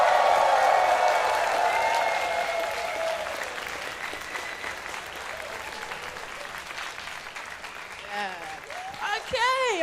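A large audience at an indie game award show bursts into sustained applause mixed with cheering, loud at first and gradually thinning, with a few whoops rising near the end.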